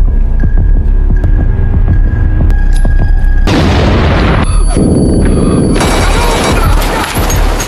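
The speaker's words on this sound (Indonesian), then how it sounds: "Rashid mengetahui kedatangannya dan melempar sebuah granat" A grenade goes off in a film's terrorist-attack scene at a hotel: a loud, sustained roaring boom with rumbling low end, layered with abrupt shifts of blast and debris noise throughout.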